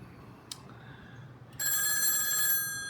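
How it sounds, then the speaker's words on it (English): A 1A2 key telephone system's bell ringer sounds one sustained, loud, metallic ring lasting about a second, after a short click and a quiet stretch. "it's ringing"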